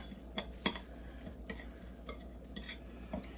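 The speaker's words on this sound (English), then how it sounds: "So let me get my ingredients, my seasonings mixed up." Seasonings for turkey chops being mixed, with quiet, intermittent stirring and light taps of a utensil against a bowl, several small distinct clicks spaced irregularly over a low hum.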